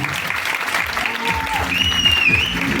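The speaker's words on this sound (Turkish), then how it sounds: "sizlerden tek ricam kuvvetli bir alkış rica edebilir miyim?" An audience at a stage event bursts into sustained applause, dense steady clapping from a crowd close by, with a few voices and whistle-like tones rising over it.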